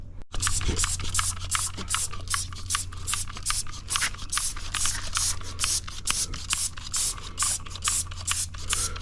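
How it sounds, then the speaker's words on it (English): Quick bursts of tire cleaner spraying onto car tires repeat in a steady rhythm, each short hiss following the last, close up, over a low background hum. "I'm gonna spray on here and show you what comes off these tires"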